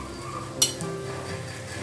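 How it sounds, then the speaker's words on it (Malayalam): Cooked tapioca (kappa) tipped into egg masala in a pan for Kerala street-food kappa mutta masala, giving one sharp clink of utensil on pan, then soft scraping and sizzle without any talk. "ഇനി നമുക്കിതിലേക്ക് കപ്പ ഇട്ട് കൊടുക്കാം."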